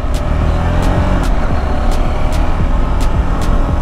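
KTM motorcycle engine revving steadily while riding and shifting gears with a quick shifter, a continuous loud engine drone with faint periodic ticks, no talking.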